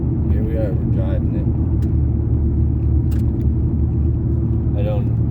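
A 2003 Ford Ranger pickup with a swapped 4.0L SOHC engine drives along, its steady low engine and road rumble filling the cabin while someone talks over it.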